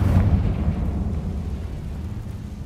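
A Confringo spell explosion in a Harry Potter video game is a deep, rumbling boom. It is loudest at the start and decays over a couple of seconds into a low, fading roar, with no speech.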